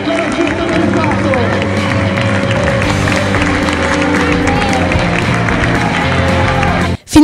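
A home crowd at a Serie D playoff final basketball game roars and applauds in a steady, dense wash of noise that holds for several seconds, then cuts off abruptly.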